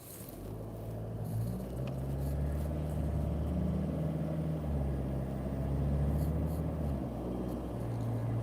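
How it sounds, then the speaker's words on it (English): Diesel four-wheel-drive car engine heard from inside while driving, a steady low droning hum with shifting tones as it moves, moderately quiet and continuous, with no talk. "Quite noisy, this car being a diesel car."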